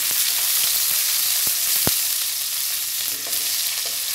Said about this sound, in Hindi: एक मिनट हमको इसको अच्छे से सॉटे करना है।